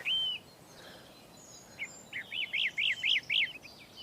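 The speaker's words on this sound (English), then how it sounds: "The birds have lost their fear." Birds chirp in a quiet countryside scene, an opening whistle followed by a rapid run of five or six repeated bright chirps at moderate distance over a soft outdoor hiss.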